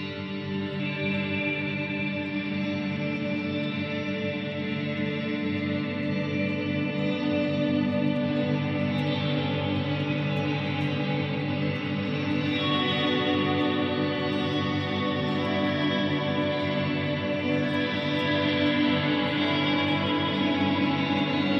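A dense, washed-out guitar sound through a Neunaber Immerse Mk II reverb pedal at 100% wet mix, notes blurring into a continuous shimmering ambience, steady and loud throughout.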